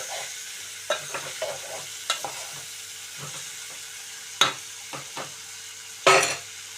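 Broad bean and tomato curry cooks in a pan with a soft continuous simmer, broken by several sharp scrapes and clinks of a spoon stirring against the metal, one louder clatter near the end.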